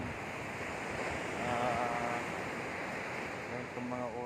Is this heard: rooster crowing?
no